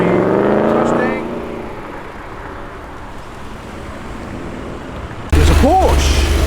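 A Nissan GTR and a Ford Mustang rev and accelerate on a street in Tempe, Sydney as they leave a car show, with loud, close engine roar, a fading passage, then a sharp rising surge of revs.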